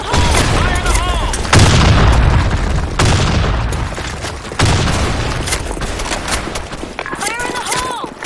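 Grenade blasts and gunfire from the video game Counter-Strike come as loud repeated booms over a constant din of rapid shots, with game voices calling out between them.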